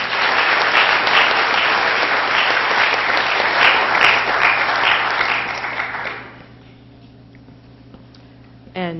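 A spelling bee audience claps loudly and steadily in a hall for about six seconds, then the applause fades out, leaving a quiet hum and a faint knock at the end.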